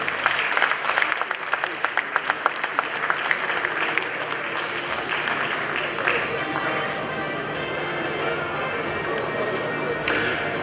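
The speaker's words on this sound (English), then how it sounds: "Can we keep the applause going, ladies and gentlemen?" A media-awards crowd in Ghana gives sustained applause welcoming the Acting Chief Justice, dense clapping that is crisp and close at first and then blends into a broad wash, with talk underneath.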